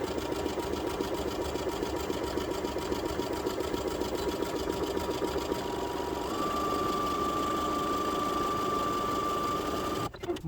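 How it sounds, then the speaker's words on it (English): A sewing machine runs a zigzag stitch along the curved edge of muslin for a coffee filter, a fast, steady close mechanical whir that holds for about ten seconds before stopping abruptly. "So we're going to go over to the sewing machine and I'll show you exactly how I do that."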